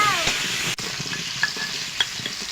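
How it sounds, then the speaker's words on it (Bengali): Hot oil sizzles loudly as potato pieces with turmeric and salt are stirred in a kadai, with a few clinks and scrapes over the steady frying hiss. "আলুটা ভেজে নেব"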